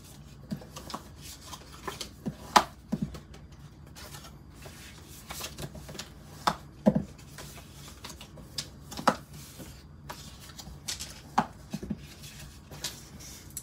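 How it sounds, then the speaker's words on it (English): Paper box folded along its score lines and burnished with a bone folder, giving soft close rubbing and crinkling with scattered sharp taps and creases, faint and alone. "we're going to fold on all these score lines and then burnish it with our bone folder"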